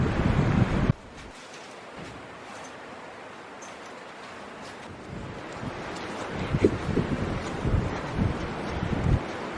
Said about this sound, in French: Ah, le vent, c'est horrible.